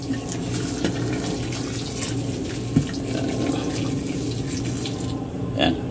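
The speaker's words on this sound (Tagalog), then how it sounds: "Lagyan na natin yung mainit na tubig." Hot water poured into a pot of chicken tinola soup, a steady broadband splash and rush running for about six seconds, close and fairly loud, with a brief clatter near the end.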